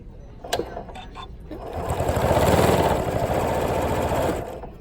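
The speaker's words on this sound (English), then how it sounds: "So I'm gonna sew through this with as much ease." A Janome Continental M7 sewing machine stitching through thick stacked denim layers, a fast rhythmic mechanical whirr that starts softly, swells louder and stays steady close up, with a few clicks before it speeds up.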